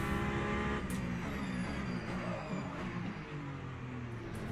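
A race car engine in the racing game Le Mans Ultimate drones steadily from an outside view, a loud continuous hum holding an even pitch with small shifts, no voices.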